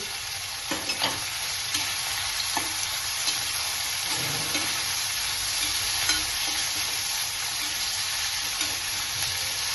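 Shredded cabbage and vegetables steaming and sizzling in a hot pan for a frankie filling, a steady close hiss with light stirring scrapes throughout and no talk.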